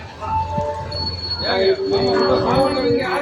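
A train rolls into Goa railway station with a rumbling clatter, its wheels letting out a sustained high metallic squeal as it slows.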